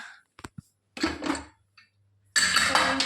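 Spoon scraping and clinking against a metal dish while food is mixed for the dog Loki, a few sharp taps followed by two short scraping passes and a louder, longer stir.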